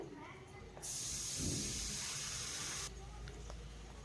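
Water poured onto onions frying in a pan for a bitter gourd and potato curry, setting off a loud, steady hiss and sizzle that holds for about two seconds before dropping back to a quieter crackle.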